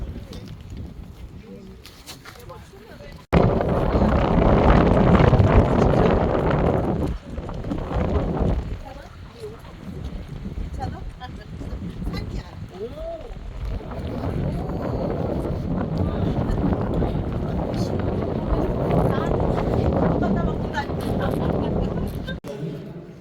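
Wind gusting hard across a microphone outdoors, a loud broadband roar that cuts in abruptly, eases midway, then swells again, with people talking at times.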